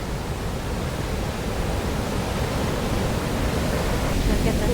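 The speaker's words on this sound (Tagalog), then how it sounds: "Kasi nalalapitan mo yung waterfalls." Rhine Falls waterfall in Switzerland roaring close by, a dense, steady wash of broadband rushing noise that holds level and unbroken throughout.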